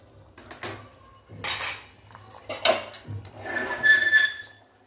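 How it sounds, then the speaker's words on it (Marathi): A pressure cooker lid is set and closed on a pot of rasam rice, giving a run of quiet metallic clinks, scrapes and clatter spread over several seconds. "याचं झाकण लावून घेऊया."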